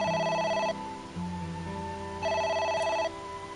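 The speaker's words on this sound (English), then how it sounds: "It's the phone. Maybe try picking it up?" Phone ringing in the video game AI: The Somnium Files, two bursts of an electronic trilling ring separated by a short gap over a low background hum, close and with no speech.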